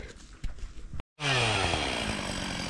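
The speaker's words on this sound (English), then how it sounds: "Got a bit of two-stroke goodness up there." A distant two-stroke dirt bike engine at a motocross track during a finals event drones steadily, its pitch sliding downward, after a brief silent gap that follows some rustling.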